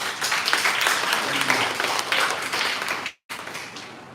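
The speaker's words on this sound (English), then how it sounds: "Let's have a big round of applause for the university directors." A lecture-hall audience gives a round of applause for the university directors, brisk clapping throughout with a brief gap of silence near the end before it resumes.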